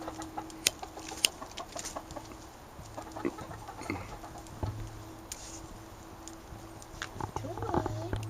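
Soft clucking from chickens in a hen house, scattered and fairly faint, with occasional sharp clicks and a low hum in the background.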